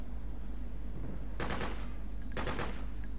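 Bursts of turret machine gun fire in a war video game, two loud rapid volleys about a second apart over a steady low background hum.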